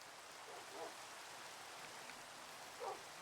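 Steady soft rainfall in a Minecraft world, a continuous faint hiss of drops with no breaks, heard quietly and alone for a few seconds.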